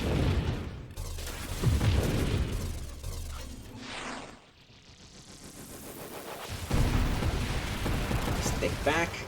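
In The Beyblade Build video game, a loud explosion bursts out with a rumbling boom and a sweeping blast that fades before the noise swells again.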